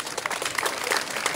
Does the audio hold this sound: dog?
no